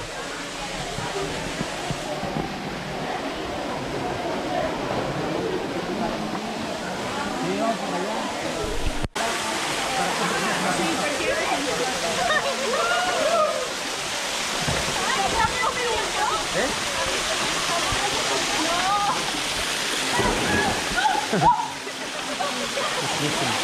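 Cold spring water flows and splashes steadily at a natural bathing spot in Mexico, a dense continuous rushing close by, with occasional voices faintly mixed in.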